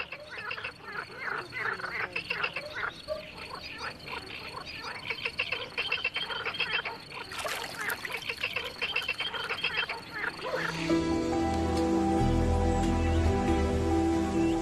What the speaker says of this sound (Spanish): las ranas y los sapos toman el relevo